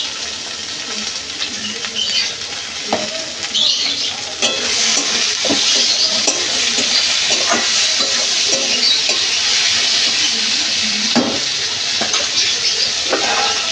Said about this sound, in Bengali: এখানে কেটে রাখা টমেটো দিয়ে দেবো। আর পরিমাণ মতো নুন দিয়ে দেবো।